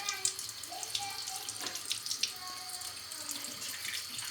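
Tap water running steadily over an oven tray being rinsed after cleaning with Amway oven gel, a close continuous splashing rush with faint drips.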